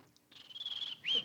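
A voice imitates birds chirping with a thin, high whistled tone, a short quiet lead-in followed by one sustained chirp and a brief second rising call, close and soft.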